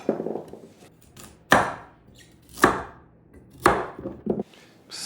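Organic carrots are chopped roughly with a knife on a board, four sharp, separate thunks about a second apart plus a few softer taps between them, all close by.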